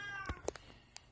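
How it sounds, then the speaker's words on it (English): A cat meows a few times indoors, short separate cries, fairly quiet against a low background hum. "that's my cat in the background if you could hear her"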